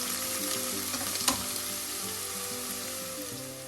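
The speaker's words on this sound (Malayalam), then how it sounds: "പച്ചമുളക് എല്ലാം ചേർത്തൊന്ന് വഴറ്റും." Green chillies sautéing in a pan for a fish curry give a steady hiss of sizzling oil, broken by a single sharp spatula knock.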